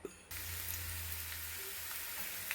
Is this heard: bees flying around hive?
no